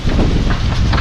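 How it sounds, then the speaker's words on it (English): Strong gusty wind ahead of a thunderstorm roars and buffets the microphone, a dense, constant rush of noise with no voices. "It's coming through. The wind's just picked up,"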